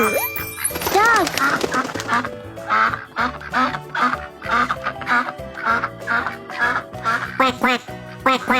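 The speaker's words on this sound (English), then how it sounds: "Quack, quack, quack, quack." Duck quacking repeatedly in a fast, loud series of harsh calls, part of an animal-sound guessing game, with brief moments of speech mixed in.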